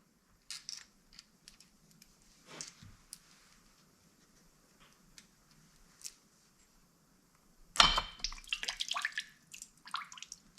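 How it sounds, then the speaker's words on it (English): Coolant drips and splashes from a removed water pump on a 2007 Jeep Wrangler, mostly faint, then a sudden louder gush with a run of irregular trickling splatters close by. "Normally when we take water pump off, coolant will come out of it."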